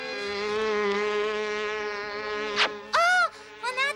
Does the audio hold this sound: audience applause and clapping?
no